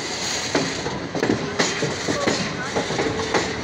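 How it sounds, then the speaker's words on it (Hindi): The Shramjeevi Superfast Express, an Indian Railways passenger train, rolls into Ghaziabad station with a steady rumble and rhythmic clickety-clack of wheels over rail joints, heard close and fairly loud. "हमारी ट्रेन गाज़ियाबाद पे अराइव होती हुई"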